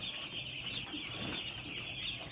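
Many 8-day-old broiler chicks, about 450, cheep and cluck continuously in a dense, steady chorus on a poultry farm, close by, with no voices.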